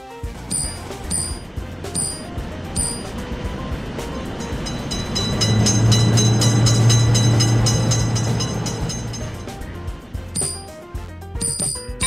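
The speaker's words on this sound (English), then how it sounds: "Quick train is noticed." A fast train speeds through a level crossing, its roar swelling loud and near through the middle with a sustained low drone, while a repeating crossing bell rings before and after it passes.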